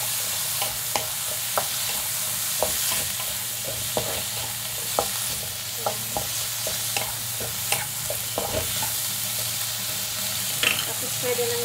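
Squash and green beans sauté in a hot pan with a constant sizzle, while a spatula taps and scrapes at a fairly regular pace throughout.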